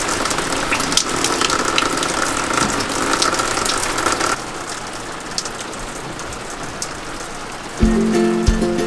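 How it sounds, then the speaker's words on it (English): Steady rain hisses and patters on a surface at Gorge Harbour, loud at first, then softer, with a low engine rumble starting near the end. "Fortunately, the rain didn't last long"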